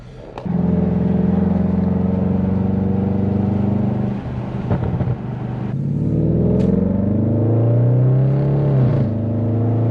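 Engine of a 700+ horsepower Audi RS7 while driving, a loud steady drone heard from inside the car that dips briefly, then climbs again as the revs rise and fall.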